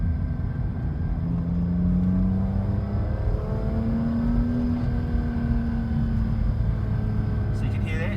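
Shifter noise from a Samsonas shifter in a BMW E46 M3 in first, second and reverse at slow speed: a steady engine and drivetrain drone with a whining, rising tone. Someone talks over it.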